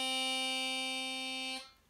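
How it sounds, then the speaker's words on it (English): A single low note is blown on hole 1 of a harmonica, a steady reedy tone held for about one and a half seconds and then cut off, fairly quiet and alone. "Hole 1 on the harmonica sounds like this."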